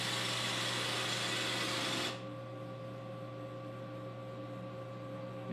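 A CNC lathe with a sub spindle machines PVC plastic parts, giving a steady broadband cutting hiss that cuts off abruptly partway through and leaves a constant mechanical hum with tonal whine.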